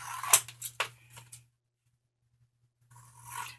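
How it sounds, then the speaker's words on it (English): Scissors snipping through laminated pictures, a few quick close cuts at the start, then silence, then a light rustle of handling at the end. "Then what I do is I cut each picture into the 4th that I've made it for."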